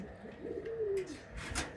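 A pigeon in a loft where chicks have just hatched gives one close, drawn-out low coo, followed by brief rustling and flapping noises.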